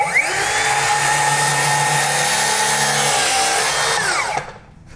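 A power tool whines steadily through pressure-treated lumber, a loud sustained buzz with a slowly shifting pitch that cuts off abruptly near the end.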